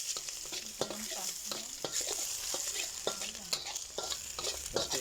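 Fried rice with egg, onion, chili and spices is stirred and scraped in a hot pan, a steady sizzle broken by repeated rhythmic spatula strokes, close and without talking.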